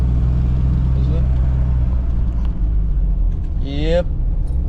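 A truck driving on a road in Mexico at night, with a steady low rumble of engine and tires throughout and a short burst of voice near the end.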